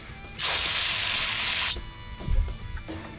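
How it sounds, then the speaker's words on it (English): A can of brake cleaner sprays onto a Toyota Tacoma wheel hub during bearing and CV replacement, one loud close hiss lasting about a second, then a softer clunk. "Get in there with that brake cleaner."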